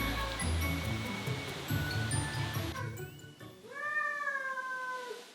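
A cat meows several times in a row, the drawn-out cries rising and falling clearly in the second half, after a stretch of rustling outdoor background noise at the start.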